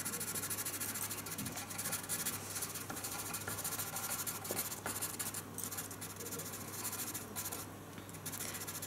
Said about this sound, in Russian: Уголь порой слишком мягкий для каких-то тонких деталей, и удобнее воспользоваться таким карандашом.